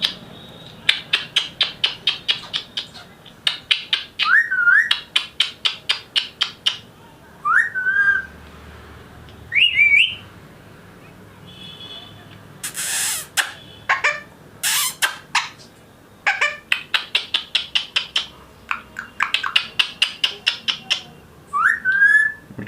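A pet parrot whistles in repeated bursts of quick chirpy notes, with a few longer sliding whistle calls, fairly close and clear with brief pauses between phrases.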